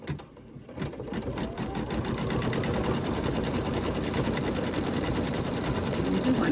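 Sewing machine stitching a Halloween quilt block, a spider-web design in the window, running in a close, steady, rapid whir that starts after a brief pause and holds loud and even to the end.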